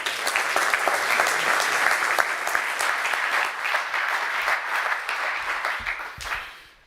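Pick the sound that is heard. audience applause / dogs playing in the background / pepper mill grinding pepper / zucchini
audience applause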